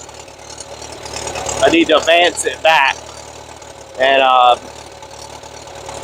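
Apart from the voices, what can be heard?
Bobcat skid steer engine running, overheating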